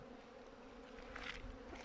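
Honey bees buzz around an open hive during winter feeding with sugar feed, a steady faint drone of many insects with a few louder passes close by.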